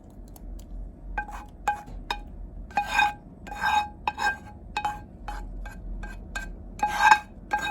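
Spaghetti noodles being stirred into sauce in a pot, with a series of sharp metallic clinks and scrapes of a utensil against the pot at an irregular rhythm, close and fairly quiet, with no talking.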